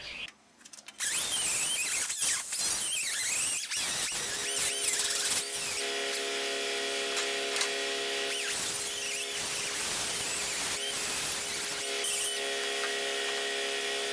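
Cordless drill boring through the steel body panel of a 1966 Mustang convertible during teardown, a close, loud whining motor with pitch shifting as the bit bites, running continuously after a short start.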